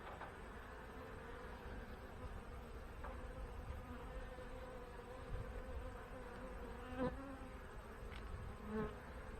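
Honey bees at an open hive make a soft, continuous buzzing drone throughout, with a few brief closer fly-bys standing out over the steady hum.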